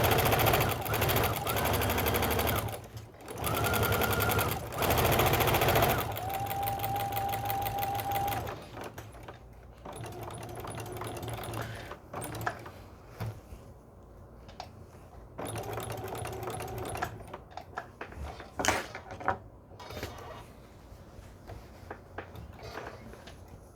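Domestic sewing machine stitching down fabric applique in quick loud whirring bursts, stopping and restarting in shorter runs as the piece is turned, with small clicks in the pauses.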